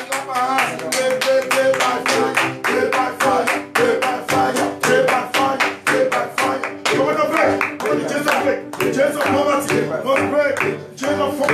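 A church congregation claps hands during prayer, loud rhythmic claps in steady succession that run under singing or chanting voices throughout.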